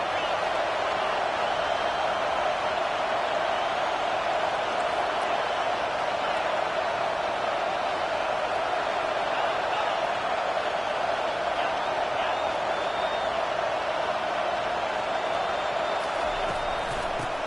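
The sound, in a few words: stadium crowd noise in a football video game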